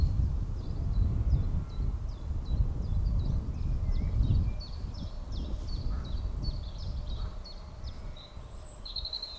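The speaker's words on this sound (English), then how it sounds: "just listen to the bird sound." Outdoor birds calling repeatedly in quick series of chirps, moderately distant, over a steady low rumble of wind or moving water, on Dartmoor moorland beside a leet near Yelverton, Devon.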